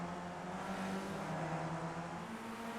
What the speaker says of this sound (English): He's going to have 2 very angry, buzzing cars behind him, though, coming out of the elbow here and down the hill.